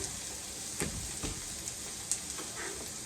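Food sautés in a pan in a home kitchen, giving a continuous, even sizzling hiss with a few soft stirring knocks, heard close and alone.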